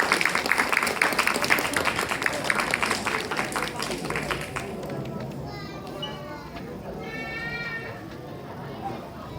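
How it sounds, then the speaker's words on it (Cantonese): Audience applause rings out at a school end-of-term ceremony and Boys' Brigade pledge event, honoring prize-winning children: dense clapping fills the first half, then fades under a speaking voice. "咁大家俾熱烈嘅掌聲我哋嘅小朋友。"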